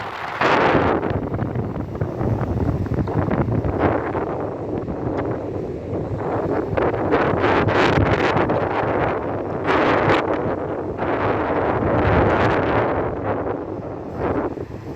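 Strong, gusty wind on an Odesa beach at dawn buffets the microphone in rolling surges and roars, steady and loud throughout with no voices.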